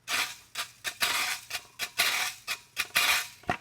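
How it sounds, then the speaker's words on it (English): Scraper board worked in rhythmic strokes, producing a series of rasping, scratchy scrapes of uneven length up close, with no speech. "I do have scraper boards too"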